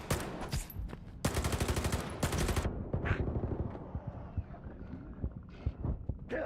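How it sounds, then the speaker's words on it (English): Shotgun blasts in Stalker 2: Heart of Chornobyl, several sharp booming shots in quick succession, with bursts of rapid fire among them, loud and close, followed by scattered quieter impacts and clatter. "it's really bad to use a shotgun against these guys"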